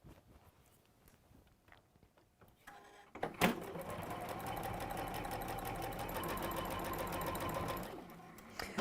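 A sewing machine runs steadily for about five seconds as it seams down the edge of a quilt block, after a quieter stretch of handling noises and before it stops.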